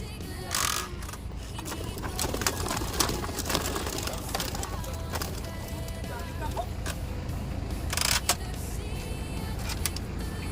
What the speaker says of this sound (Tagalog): Kahit ganitong oras, laban yung mga ibon natin